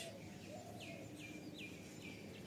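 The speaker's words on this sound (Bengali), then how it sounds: "ট্যাঁ ট্যাঁ করে কি একটা পাখি ডাকছে" A bird near a rooftop garden gives a shrill, repeated call, several descending chirps over a faint steady background hiss.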